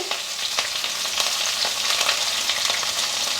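Sliced onion, green chili and curry leaves crackle loudly in hot tempering oil, a dense and steady sizzle with occasional stirring scrapes, and no voices.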